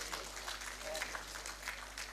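Steady applause from an audience at a ceremony honoring the Governor of Kerala, a continuous dense patter of clapping with a voice faintly present underneath.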